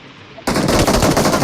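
Burst of automatic gunfire in PUBG Mobile, a loud rapid stream of shots that starts abruptly after a quiet moment and holds steady to the end.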